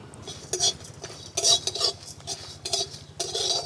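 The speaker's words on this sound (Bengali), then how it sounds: "জিরে আর মৌরি। এগুলো আমি খুব ভালোভাবে ভেজে নেব" Cumin and fennel seeds dry-roast with chilli in a pan, stirred in short scraping, clinking bursts that come every half second or so over a low steady hum; no voices.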